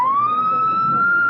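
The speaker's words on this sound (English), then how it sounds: "say now, real police siren, huh?" A police siren sounds indoors at close range, a steady loud wail that rises slightly in pitch over about a second, with rich harmonics and no voices over it.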